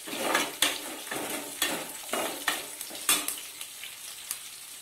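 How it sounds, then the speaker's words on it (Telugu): Chana dal frying in hot oil in a pan, with a steady close sizzle broken by repeated stirring scrapes and light clinks of a utensil against the metal. "కొంచెం శనగపప్పు ఇవన్నీ మంచిగా ఫ్రై కావాలి ఆయిల్లో"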